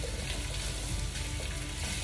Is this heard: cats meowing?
no